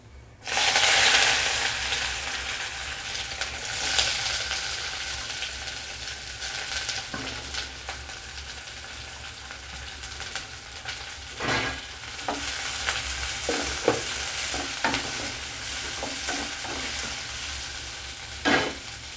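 Mustard seeds and onions frying in hot oil for a potato-free roasted gram kurma, a loud burst of sizzle at the start settling into a continuous close crackle with scattered spoon clinks and scrapes.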